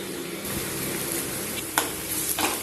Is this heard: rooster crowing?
no